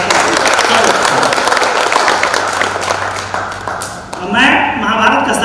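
A poetry-recital audience claps together in a dense burst that fades, then a voice and some thumps take over near the end.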